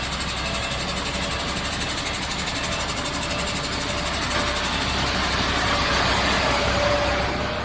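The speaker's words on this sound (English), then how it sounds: "So the truck is coming," A truck engine arriving at a pipe factory: a steady, droning diesel rumble with a faint whine, holding level and swelling slightly toward the end, with no talking.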